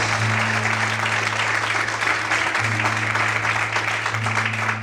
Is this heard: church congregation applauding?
yes